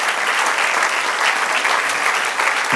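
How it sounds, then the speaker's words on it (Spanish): A church congregation claps loudly and steadily during a Spanish-language sermon, a dense, continuous wash of applause from many people close by, with no talking over it. "Denle aplauso, Señor."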